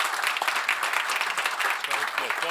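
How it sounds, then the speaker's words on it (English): A summit audience applauds the panel, a continuous, fairly loud ripple of many hands clapping together, steady throughout with faint talk underneath. "I think we should give them a warm applause."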